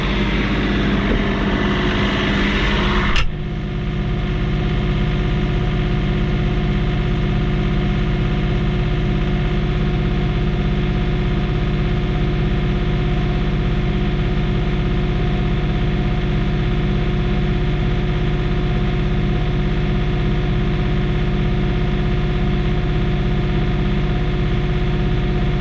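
A John Deere 3039R compact tractor engine idles steadily up close, a loud, even diesel drone with a constant low hum, after a brief burst of louder noise at the start.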